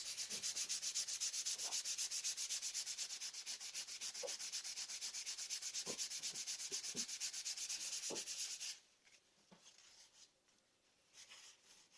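Close, steady rubbing strokes sand a homemade snake lady prop smooth, a rapid continuous rasp that stops abruptly near the end, leaving a few faint scrapes and knocks.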